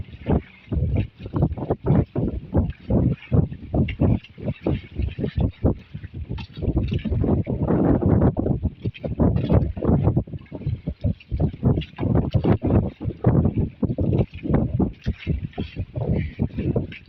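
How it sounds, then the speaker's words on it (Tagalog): Gusty wind at sea buffets the microphone in rough, irregular bursts, with rumbling low-end noise and occasional voices underneath. "lakas-lakas na ang hangin"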